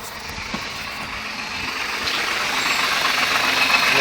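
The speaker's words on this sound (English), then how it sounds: "Making a very loud rattle sound" A 1994 Honda Civic idles in neutral while its transmission rattles. A steady, close, noisy engine drone slowly grows a little louder.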